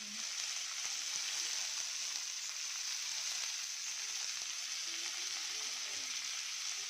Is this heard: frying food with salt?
yes